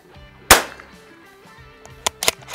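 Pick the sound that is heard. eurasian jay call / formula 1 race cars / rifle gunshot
rifle gunshot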